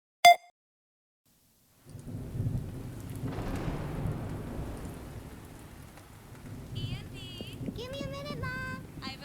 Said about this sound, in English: dark and stormy night